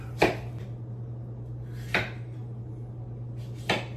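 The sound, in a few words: chopping food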